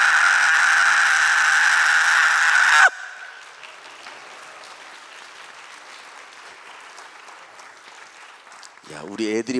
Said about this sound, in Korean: 야, 우리 애들이 박수를 다 쳐주네.